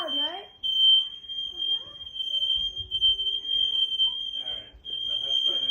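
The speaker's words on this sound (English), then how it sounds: "Zoe, what do you think about the smoke alarm?" Smoke alarm in a vacation home sounds a steady, piercing high electronic beep through most of the clip, loud and close, while people talk and react around it.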